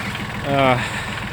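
A Shibaura S315 compact 4WD tractor's small 15 hp diesel engine idles with a low, steady chugging rumble, swelling briefly in the middle, heard up close.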